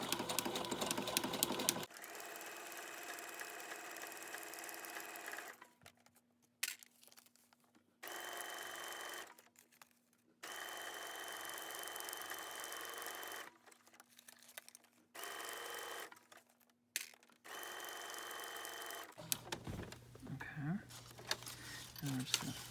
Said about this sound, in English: we're just going to slowly sew around.